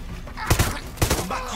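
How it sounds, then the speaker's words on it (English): An enemy fires grenades in the video game Far Cry 6: two close, loud blasts about half a second apart, with thumping low rumbles amid a noisy battle. "He's firing grenades."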